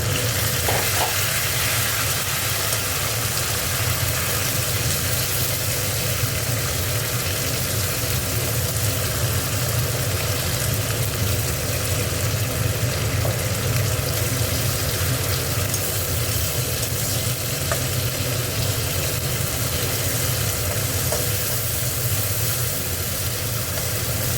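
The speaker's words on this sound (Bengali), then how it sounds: "পেঁয়াজটা ভাজা হয়ে গেছে, টমেটোটা দিয়ে দিলাম" A constant sizzle of tomato frying with onions in a pan, loud and close, running steadily the whole time with faint occasional stirring.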